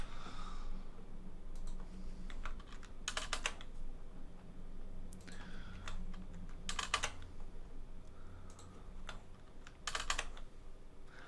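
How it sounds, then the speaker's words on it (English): Computer keyboard typing in short bursts of clicks and key presses, including delete, shift and a double tap of enter, close and clear with pauses between bursts and no talking. "just clicking delete, hitting the shift, hitting enter twice just to give me a bigger paragraph"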